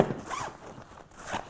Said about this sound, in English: opening these zippers not only allows you access to the pouch, but then the secondary zipper system